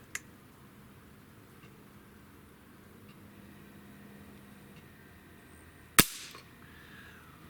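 A Norica Omnia FIRE ZRS air rifle's trigger is pulled against a Lyman trigger gauge: a long quiet stretch, then one sharp, loud crack near the end that dies away quickly.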